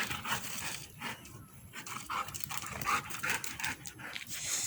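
Two dogs playing together pant and scuffle close by, with quick breathy huffs and small whimpers in a steady, lively stream.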